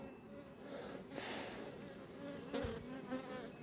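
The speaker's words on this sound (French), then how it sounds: "C'est pas des mouches, hein, des abeilles" Honeybees buzz around hive colonies on a warm day during a beekeeper's inspection, a dense continuous drone close by, with a few louder swells as bees pass near.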